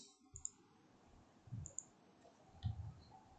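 Mouse clicks at a computer while working in Unreal Engine 5 on an IK retargeter setup, a few soft separate clicks over a quiet background with no talking.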